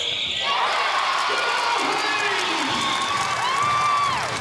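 A basketball crowd cheering and shouting at a Dandenong v Townsville preliminary final, a loud sustained roar with whoops and squeaking shoes on the court throughout.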